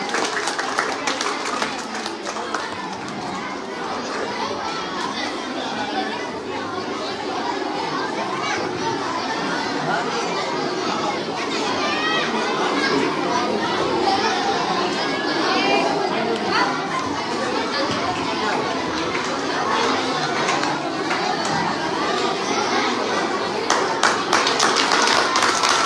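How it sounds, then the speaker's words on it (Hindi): An audience at a school award show claps in a dense, continuous wash of applause, mixed with children's voices and crowd chatter, loud and close throughout. "जोरदार तालियां मनीष सर के लिए।"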